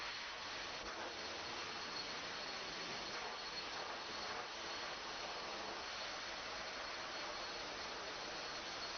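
Steady, dense hiss of sandblasting on a rusty antique knife blade, a continuous broadband blast held at an even level for the whole stretch with no pauses and no voices.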